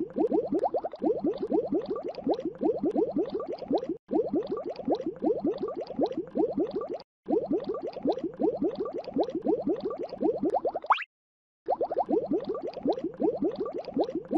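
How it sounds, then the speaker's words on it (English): Continuous rapid bubbling, like a stream of gurgling blips, repeats in steady bursts with a few brief silent breaks and a short rising tone: SpongeBob's walking sound in the video game SpongeBob in Run for the Krusty Krab. "The bubbling sound that SpongeBob makes when he walks is very annoying."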